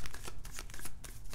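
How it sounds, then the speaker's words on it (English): Tarot cards riffled by hand in a quick run of soft, papery flutters, close and fairly quiet, with no voices. "I have the cards pre-shuffled and cleansed, but I'd like to go through them one last time"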